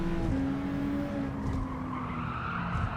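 Tires squeal steadily as a race car slows in Gran Turismo 7 at Tokyo East, a continuous skidding whine laid over the engine drone for a few seconds, loud and close with no talk.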